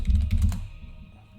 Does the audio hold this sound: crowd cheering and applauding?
no